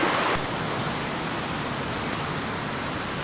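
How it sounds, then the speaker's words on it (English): A multi-tier waterfall drops tier after tier, giving a steady, dense rush of falling water that holds evenly throughout with no voices. "It just keeps falling tier after tier, the waterfall does."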